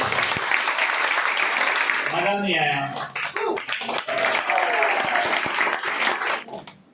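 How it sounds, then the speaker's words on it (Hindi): Applause from an audience at a product training program in Raghopur, Supaul, Bihar: dense, steady clapping fills the whole stretch, with a voice speaking over it midway before it tails off at the end. "जोरदार तालियां होनी चाहिए"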